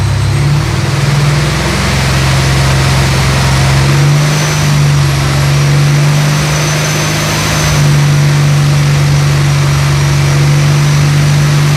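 A 2019 Ford Mustang GT 5.0 V8 with a manual gearbox, fitted with an ESS G3X supercharger, holds a steady raised rev of about 3000 RPM, a loud continuous drone close by with no talking.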